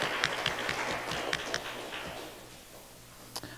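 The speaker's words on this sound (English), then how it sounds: "Everyone give them a round of applause." Scattered clapping from people at a reparations task force meeting, a few distinct claps over a low hum that thins out and fades, with one last late clap near the end.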